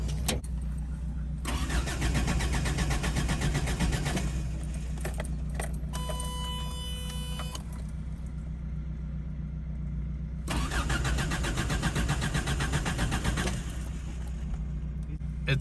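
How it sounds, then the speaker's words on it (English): An old Toyota Celica with a troublesome electrical fault cranks and starts, then idles loudly and is revved in two long bursts. Keys jingle and a brief electronic chime sounds between the revs. "So gonna test this, start it up. I'll rev it"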